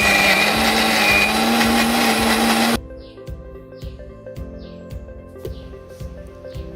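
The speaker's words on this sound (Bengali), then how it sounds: "এখানে এখন মিক্সিতে ডালটা পিস করে নেব" A mixer grinder whirs loudly while grinding soaked lentils, then cuts off abruptly, leaving a quiet room with faint bird chirps and soft taps.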